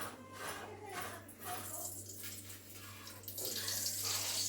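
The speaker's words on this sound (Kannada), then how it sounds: "ಇವಾಗ ಎಣ್ಣೆ ಹಾಕ್ತಾಯಿದ್ದೀನಿ." Cooking oil is poured into a pan for an egg and country-chicken curry, making a faint, continuous liquid trickle that grows slightly louder toward the end.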